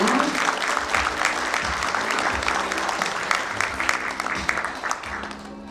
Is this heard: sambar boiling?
no